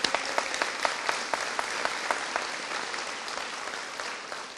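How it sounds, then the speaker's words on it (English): Sustained applause from a seated audience at a corrections officer graduation ceremony in Prince George's County, many hands clapping in a dense, even roar with a few sharp nearby claps standing out. "can we give the family members and support system to help them get through those tough 15 weeks a round of applause"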